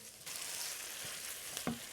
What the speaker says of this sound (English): in goes the garlic, and imagine we just cook that out a little bit